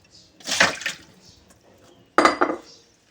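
Salted lassi is made from yogurt and water in a home kitchen. Two short bursts of clinking utensils and sloshing liquid are heard close by, with a quiet gap between them.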